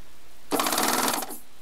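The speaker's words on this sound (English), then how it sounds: "every time I push that button to thread the loopers" A Baby Lock serger threading its loopers at the push of a button, giving a single short burst of rapid, buzzing mechanical whirring that lasts under a second, up close and alone.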